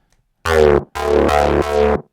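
A loud, buzzy synth patch in Serum, squeezed by a compressor, plays two sustained bass-heavy notes with a quick gap between them, the second note stepping in pitch partway through.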